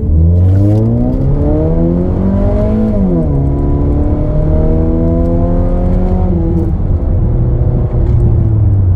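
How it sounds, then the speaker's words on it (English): A 2008 Mazda 3 hatchback engine revs up through the gears during an acceleration test, pitch climbing, dropping at each shift and climbing again, loud and steady throughout. "let's do an acceleration test"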